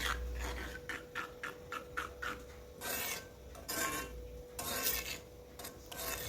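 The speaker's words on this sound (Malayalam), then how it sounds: "ഇനി നമുക്ക് ഫ്ലെയിം ഓണാക്കിയതിന് ശേഷം ഇത് നന്നായിട്ടൊന്ന് മിക്സ് ചെയ്തെടുക്കണം." A spoon stirs black cumin powder and water in a pan over a flame while making a natural hair dye, with rhythmic scraping strokes that grow into louder, longer rasping sweeps.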